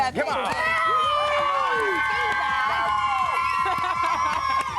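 A children's TV studio audience at a birthday celebration show cheers and whoops loudly, a dense crowd of high excited voices sustained for several seconds.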